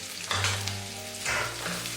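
Chopped garlic and boiled potatoes fry in a pan for a jackfruit and prawn dish, with a close, continuous sizzle and a few bursts of stirring or scraping, no voices.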